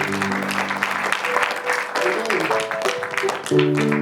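A church congregation claps and cheers in acclaim during a worship service, steady dense applause with raised voices shouting over sustained music, loud and enveloping throughout.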